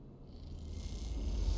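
A cat purrs in Citizen Sleeper, a low steady rumbling drone that swells slightly over a short moment, close and alone.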